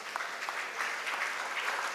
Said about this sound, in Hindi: इनकी भी ताली बजा दो भाई